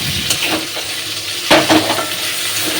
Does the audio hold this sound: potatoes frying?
yes